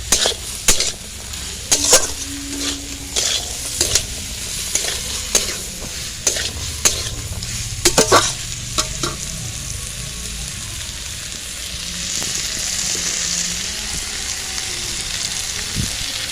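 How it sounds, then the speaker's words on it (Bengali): Potatoes and peas sautéed with spices in a pan for ghugni give a steady sizzle, broken by scraping stirs and occasional clinks of a spatula on metal, close by and with no talking. "খুব ভালোভাবে আলু মটরের সাথে কষাতে হবে মশলাটাকে।"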